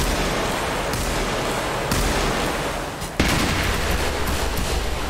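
Gunshots ring out in the Roblox game The Wild West, several loud cracks landing every second or so over a dense, noisy game background.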